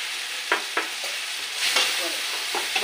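Sauce fries in a pan over a gas flame, hissing softly while a utensil scrapes and taps against the pan in a handful of irregular strokes.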